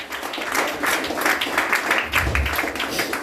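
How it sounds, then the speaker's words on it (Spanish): A church congregation breaks into loud, sustained applause during an evening sermon, dense clapping from many hands filling the room steadily for several seconds. "Denle un fuerte aplauso al Señor si Dios está hablando en esta noche."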